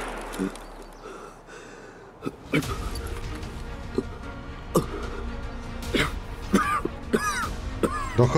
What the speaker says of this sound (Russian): Да хорош кашлять, я уже тебя вылечил.